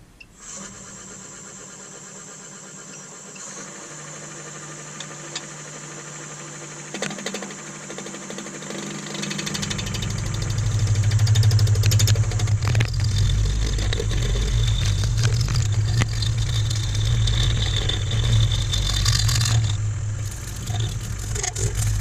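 Wood lathe spinning an ash and resin bowl while a freshly sharpened carbide tool cuts, a steady low hum with continuous scraping that begins after a quiet opening and then holds loud and close.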